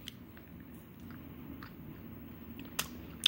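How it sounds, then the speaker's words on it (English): A caramel candy from a snack box is chewed close up, with soft, quiet sticky mastication and a couple of faint crisp clicks, and no talking. "I'm just going to eat this because I'm assuming it's caramel."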